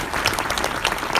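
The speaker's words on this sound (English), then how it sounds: "I'd like to give a big round of applause for CIBC." Audience applause at a closing conference keynote, a close, loud burst of many hands clapping with individual claps popping out of the steady roar.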